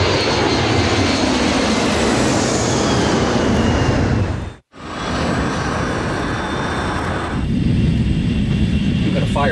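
Airliner engines roar steadily in flight, a loud, broad drone that cuts out briefly and then resumes. A voice speaks over the noise near the end.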